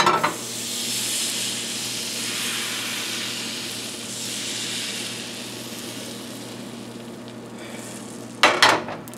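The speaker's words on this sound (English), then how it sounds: "Just enough to make sure that the entire surface is covered with batter." Crepe batter hits a hot pan with a steady broad sizzle and hiss that swells and fades gently, followed by a couple of sharp clinks near the end.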